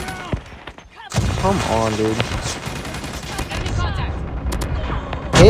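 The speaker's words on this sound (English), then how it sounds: "I'm literally shooting this person in the face." Rapid bursts of automatic gunfire from a video game shooter ring out close and loud as a player is shot, with someone talking excitedly over the shots.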